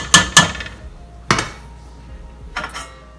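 A metal lid clanks onto a pot of simmering Cuban-style pork meatballs and onions on the stove: two quick close clinks, then two more separate metallic knocks with quiet pauses between.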